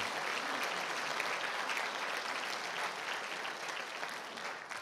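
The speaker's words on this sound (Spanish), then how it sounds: "Demos un aplauso al Señor por eso" A congregation applauds during a Spanish-language sermon, giving a sustained, even wash of clapping that fills the room and fades slightly at the end.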